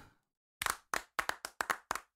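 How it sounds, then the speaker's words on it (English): Several people clap in short, uneven bursts, about seven or eight sharp claps close by after a brief quiet, with no talk over them. "Actually, you got more people clapping that time."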